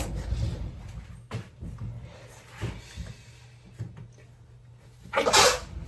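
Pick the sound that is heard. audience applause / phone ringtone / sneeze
sneeze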